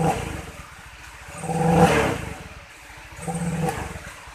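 A Honda Vario 125 scooter with sluggish, unresponsive throttle response is revved in place, with two rising and falling throttle blips over a steady mid-pitched idle, heard close and loud with no talking.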